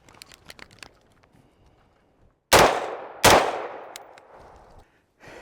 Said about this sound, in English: that's the 2 shots where I shot with my red dot